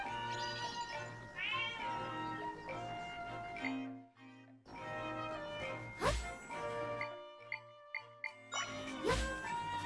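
Cat meowing in the video game Zelda: Echoes of Wisdom, with several clear, close meows over tinkling game music and chimes, and no talking during the sounds.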